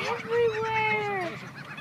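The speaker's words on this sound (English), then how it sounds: "we're about to witness an epic bird fight over some bread" Birds fighting over bread give drawn-out honking calls, close and fairly loud, with a voice talking underneath.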